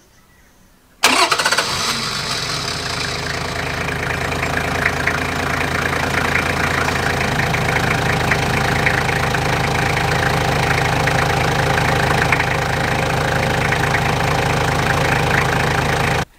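A Toyota 1HZ 4.2-litre six-cylinder diesel in a Coaster motorhome cranks and fires after about a second of quiet, then settles into a loud, steady, close idle with a rough knocking clatter that continues to the end.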